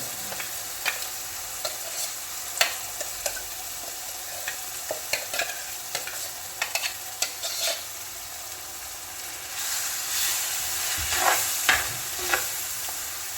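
Ground coconut paste being stirred into thick kurukku kaalan, soft bubbling and low frying under scattered close scrapes and taps of a spoon against the pot.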